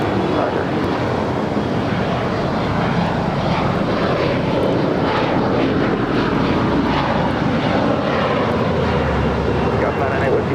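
A fixed-wing airliner departs at Los Angeles LAX airport with a loud, steady engine roar that fills the scene, while radio talk runs underneath.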